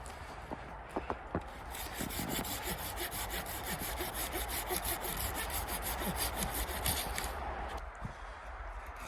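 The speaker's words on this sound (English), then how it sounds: "We're going to cut them in 1-foot sections, drive them into the ground." A hand saw cuts steadily through a log to make wooden stakes at a winter campsite, a close, continuous rasping stroke rhythm that runs for several seconds after a few faint knocks, with no talk.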